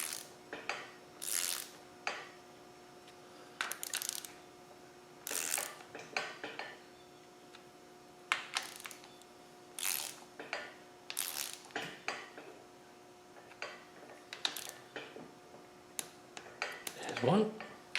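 Cylinder head bolts being spun down by hand on a Land Rover 300Tdi engine rebuild, giving bursts of ratcheting metallic clicks and clinks separated by short pauses, close and fairly quiet, with a brief clunk near the end.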